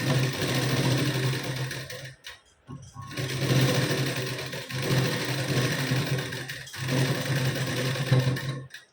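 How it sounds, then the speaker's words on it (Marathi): A sewing machine runs steadily while stitching a fitting seam on a blouse, with a loud, continuous whirring chatter broken by a few short stops and restarts. "तर बघा अशी आपण फिटिंगची शिलाई देऊन घेतली"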